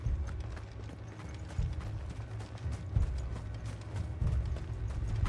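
Horse hooves clip-clopping in Final Fantasy XVI, a steady rhythmic trot under a low rumbling mechanical bed of game ambience, no voices.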